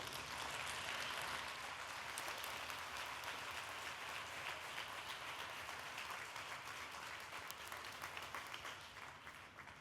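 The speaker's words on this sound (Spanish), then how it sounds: "Pido un aplauso para José María Álvarez Pallete." A conference crowd at an education and digital connectivity event applauds the president of Telefónica, a steady, fairly faint wash of clapping that holds evenly throughout and tapers slightly at the close.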